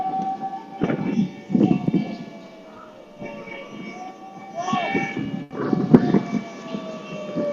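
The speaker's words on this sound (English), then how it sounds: "Looks like there's a cop car on the shore that's ringing its siren." A police car siren wails from the shore, heard from a racing yacht arriving at the dock. The distant, sweeping tone sits under a busy mix of crowd noise and rumble.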